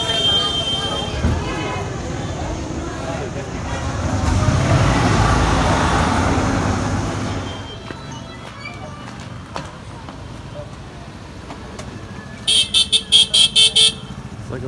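Heavy street traffic crawls along Jogiwara Road in Dharamsala, India, with engines rumbling loudly up close before easing, and a burst of several rapid car horn toots sounding near the end.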